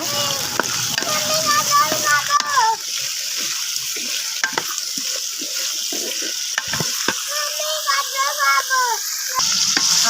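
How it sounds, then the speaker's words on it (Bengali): Chopped carrots and tomatoes frying in a pan, a steady close sizzle with scattered stirring clicks and scrapes, while someone talks over it. "গাজর কুচিগুলোও দিয়ে দিলাম টমেটো কুচিও দিয়ে দিলাম আমি এখন এগুলো সবগুলো বেজে নিব"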